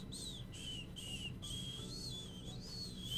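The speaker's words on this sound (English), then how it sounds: "I don't even think that counts as whistling" A person makes a weak, breathy attempt at whistling, producing a thin, wavering high tone in several short bursts, faint and close with airy breath noise underneath.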